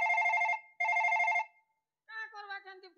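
A phone rings with two long, even electronic trills separated by a short gap, close and clear, before a different warbling tone follows.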